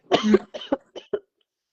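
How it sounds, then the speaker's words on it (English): A person coughs several times in quick succession during a live chat, a longer first cough followed by three or four shorter, quieter ones, close to the microphone. "Coughs happen."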